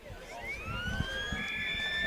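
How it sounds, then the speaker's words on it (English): A siren sounds at a women's football grand final, rising then holding as a steady wail over the low crowd noise of the ground. "So there's a siren."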